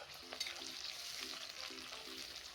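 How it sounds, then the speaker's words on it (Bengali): Chopped tomato sizzling in hot oil with fried onions for a mutton masala, a steady close frying hiss with a few soft stirring scrapes and no talking. "এখন টমেটো কুচি দিয়ে দেবো।"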